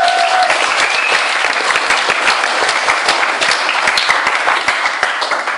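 An audience at a speech event breaks into loud, sustained applause, many hands clapping in a dense, continuous roar that tapers slightly at the end, with no voices over it.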